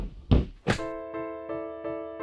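Pistons are banged into a Brembo brake caliper during reassembly after powder coating. Two sharp, heavy metal knocks are followed by a steady ringing hum that pulses with a faint regular beat.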